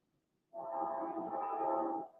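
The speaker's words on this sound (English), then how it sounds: "You know I'm in these streets when you hear that train, ambulance, and police sirens." A train passes on city streets, a loud steady rumbling roar with horn-like tonal bands that swells in suddenly and holds for about a second and a half before easing off.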